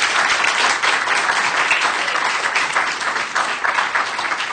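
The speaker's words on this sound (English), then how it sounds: "Maybe we can give him a round of applause." Church congregation applauding after a sermon, a dense, steady wash of clapping from many hands that holds at full level for the whole stretch with no talk over it.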